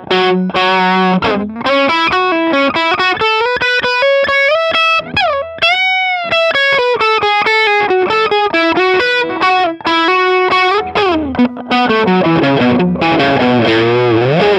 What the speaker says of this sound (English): The crunch sound, again, mic'd up cab to the cab clone in the speaker off position.